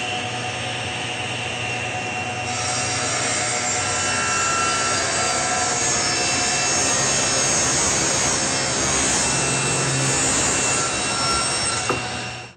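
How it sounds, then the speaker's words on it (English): A table saw pushes a wooden leg through on a sled to cut a taper, giving a loud, steady whining cut that holds for about ten seconds before stopping abruptly, with no talking. "Now let's cut the first taper."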